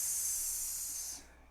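A voice imitates the sound of the letter S with one long, steady hiss, loud and close, held for over a second before cutting off, with no other talking around it.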